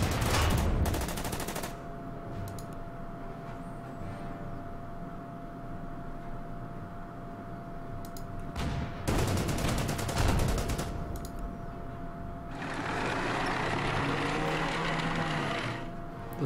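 Tank and artillery gunfire in the World War II strategy game Order of Battle: sharp bursts of shots at the start and again around the middle, followed by a sustained rattling barrage, over a low steady hum with no speech.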